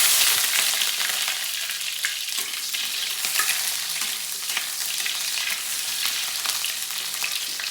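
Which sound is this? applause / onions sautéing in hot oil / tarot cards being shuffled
onions sautéing in hot oil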